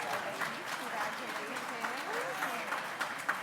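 Audience applause at a data center awards ceremony, a dense, sustained clapping from a crowd, moderately distant, with a voice speaking over it.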